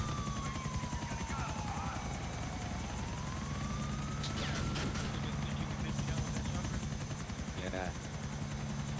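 Constant rotor thrum of a helicopter in the video game GTA 4, heard up close and steady, with a short burst of game sounds and faint voices in the background.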